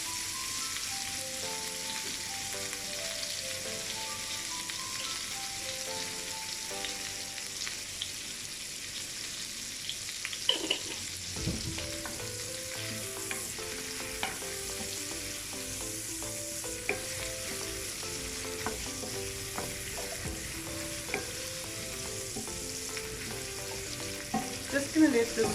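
Chopped onions stirred in a frying pan for Tuscan chicken give a steady, close sizzle, with spoon scrapes and small clatters scattered throughout.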